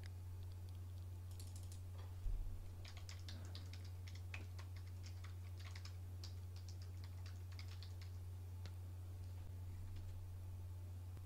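Quiet typing on a computer keyboard, a scatter of soft key clicks in irregular bursts over a steady low electrical hum, close and faint, with no talk.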